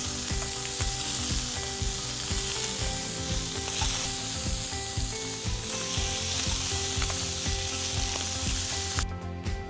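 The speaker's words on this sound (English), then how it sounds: "We're going to finish off our lamb ribs with the glaze." Korean-style lamb ribs sizzle loudly and steadily in a hot pan as glaze goes in, with a dense continuous frying crackle and a rhythmic scraping of stirring throughout.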